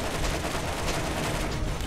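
Rapid turret gunfire in the video game Borderlands, a dense, continuous burst of shots at steady loudness, with no talk over it.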